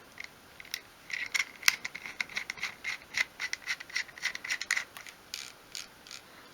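Dremel rotary tool's collet being twisted tight around a narrow cocktail stick, making a close, quiet run of rapid ratcheting clicks and gritty rubbing ticks that stops briefly near the end.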